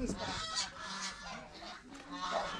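Loud honking duck calls overlap in a noisy, busy chorus at a campsite in Pangasinan, Philippines, close by and continuous for a couple of seconds.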